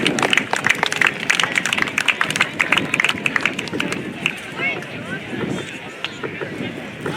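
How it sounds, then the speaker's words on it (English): An air show crowd applauds the F-16 Viper demo team headliner outdoors, with dense, steady clapping over wind noise and voices, easing slightly toward the end. "How about a huge round of applause for your headliner, the F-16 Viper demo team."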